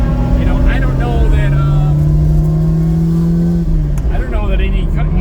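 A Lamborghini Miura SV engine pulls loudly in first gear, a strong steady drone that climbs in pitch, then drops briefly around a shift before rising again, with someone talking over it.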